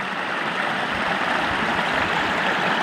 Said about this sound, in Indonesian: Dan ini adalah sungai, di mana sungai itu merupakan titik temunya beberapa anak sungai dari tiap-tiap desa